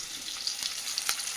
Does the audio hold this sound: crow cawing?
no